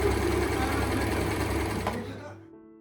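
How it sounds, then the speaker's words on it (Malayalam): A sewing machine stitching crochet props for a Christmas photoshoot runs in a steady, close, rapid mechanical whir, then winds down and stops just before the end. "അപ്പോൾ ഇനി സ്റ്റിച്ചിങ് സ്റ്റാർട്ട് ചെയ്യാം."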